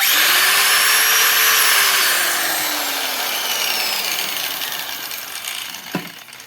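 An electric angle grinder over 20 years old runs on a 120-volt AC/DC supply from EGO batteries, drawing a heavy 5.8 amp load. It whines loud and steady, spins down gradually, and ends with a sharp knock near the close.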